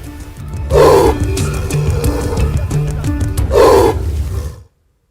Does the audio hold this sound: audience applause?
no